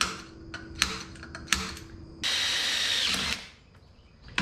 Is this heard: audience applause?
no